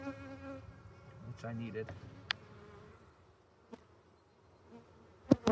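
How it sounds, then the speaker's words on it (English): Honey bees buzzing around an open hive during an inspection, a soft low drone close by with a few sharp clicks and knocks from handling, and a brief spoken phrase over it. "These are friendly bees."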